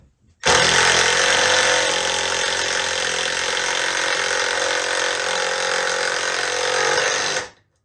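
An older brushed Milwaukee 12-volt impact driver runs under load for about seven seconds, a loud, steady buzzing motor whine with continuous hammering rattle, close by and without talk.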